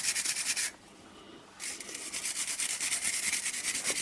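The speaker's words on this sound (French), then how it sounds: "Donc je vais passer un coup de brosse métallique." A wire brush scrubs the oxidized, grimy joints of an LPG filter on a Chevrolet Aveo BRC gas system. The strokes are rapid, rhythmic and close, with a brief pause partway through before the scrubbing resumes.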